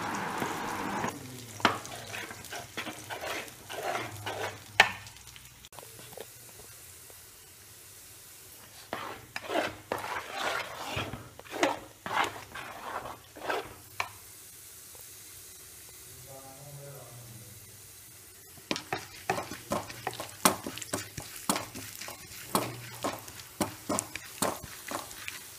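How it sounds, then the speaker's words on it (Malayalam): Ripe jackfruit stirred in ghee in a pan for jackfruit halwa: repeated close scraping and tapping strokes over a soft sizzle, pausing midway before resuming, with a voice speaking at times. "നെയ്യ് ഒഴിച്ചിട്ട് ഈ ചട്ടിയിൽ ചക്കപ്പഴം ഒട്ടിപ്പിടിക്കാതെ നമ്മൾ ഇളക്കിക്കൊണ്ടിരിക്കുന്നു"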